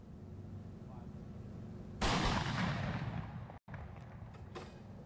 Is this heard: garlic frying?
no